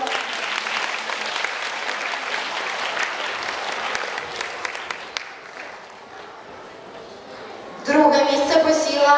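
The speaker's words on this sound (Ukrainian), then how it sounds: "І ще раз вітаємо оплесками." An audience applauds at a gymnastics award ceremony in Kyiv, sustained loud clapping that fades out after about five seconds, after which an announcer's voice begins.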